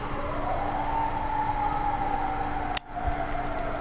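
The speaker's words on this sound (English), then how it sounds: "Evidently an ambulance or a fire truck is coming to my neighborhood" A passing ambulance or fire truck siren in a residential neighborhood, a steady wailing tone heard from some distance over a low hum, with a sharp brief click near the end.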